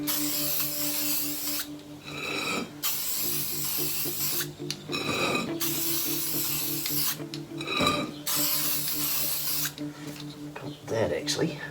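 Aerosol cleaner sprays onto a Series 1 AU Ford Falcon XR6 VCT Cobra in several hissing bursts of two to three seconds each, close and fairly loud, with pauses between them.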